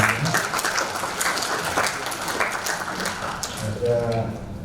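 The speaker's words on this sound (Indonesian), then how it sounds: "Kita tepuk tangan dulu untuk Pak Sahat Sinaga." Conference audience at a palm oil mill technology event claps for an introduced guest, moderately loud scattered applause with a speaking voice overlapping near the end.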